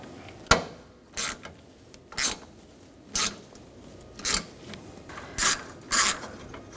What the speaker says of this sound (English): Using a 10mm socket, we're going to take this nut off.